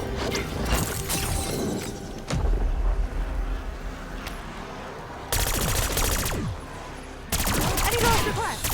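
Rapid automatic gunfire from the Mark II weapon in the video game Shattered Veil, crackling in several loud bursts with brief lulls of softer background between them.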